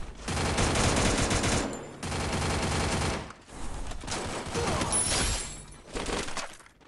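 Sustained automatic gunfire in the mobile shooter Free Fire, with loud rapid bursts close by that empty the magazine across several long strings, separated by brief pauses.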